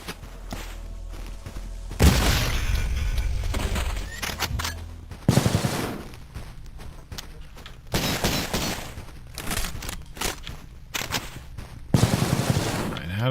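Gunfire from the game CULTIC: Chapter Two comes in loud, sharp bursts of rapid shots separated by short pauses and scattered impacts, close and punchy throughout.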